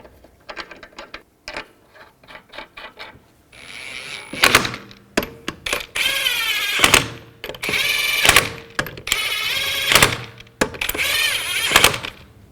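Lug nuts being run onto a wheel of a 2010-2017 Chevrolet Equinox after a rear shock absorber replacement: loud, close ratcheting and mechanical whirring in several bursts, with clunks in between.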